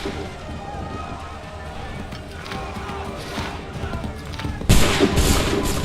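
A volley of musket gunfire in Assassin's Creed III, with a steady crackle of battlefield shots and a sharp, loud burst of firing near the end. Shouted commands are heard over the noise.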